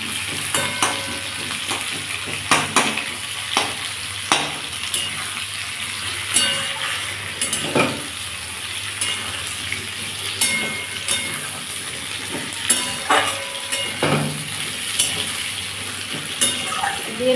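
Onions frying in a pan with potatoes for a tilapia fish broth, a continuous hissing sizzle broken by regular scraping stirs of a spatula against the pan, fairly close and loud.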